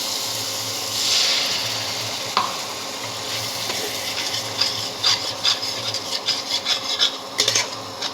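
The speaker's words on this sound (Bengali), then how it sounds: "আমরা মশলাটাকে একটু নেড়ে নেব।" Ground cumin and turmeric are stirred in a pan for a jackfruit (echor) curry. A soft sizzle runs under rubbing and scraping, and the strokes become choppier and more distinct toward the end.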